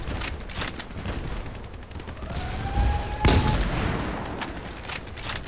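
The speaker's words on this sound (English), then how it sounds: "I'm getting shot at from this direction" Gunfire in the Battlefield Play4Free video game, a steady crackle of distant shots with a sharp, louder volley near the middle and more bursts toward the end.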